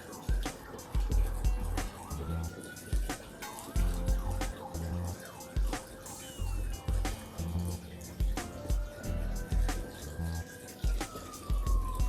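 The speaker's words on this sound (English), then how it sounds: "I think I hear a fire truck." A distant fire truck siren wails in rising and falling sweeps, faint behind nearby bubbling and clattering kitchen sounds.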